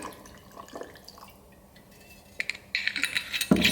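Johnnie Walker Red Rye whisky is poured over ice in a glass, starting with faint clinks and drips, then a louder gurgling pour with ice crackling near the end.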